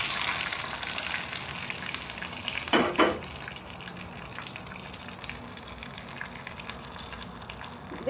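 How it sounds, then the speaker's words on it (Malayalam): Mustard seeds, curry leaves, shallots and dried red chillies frying in hot oil for a potato curry, a steady close sizzle and hiss with a brief louder burst of spattering midway. "എണ്ണ ചൂടായിട്ട് കുറച്ച് കടുക്, കറിവേപ്പ്, ചെറിയുള്ളി"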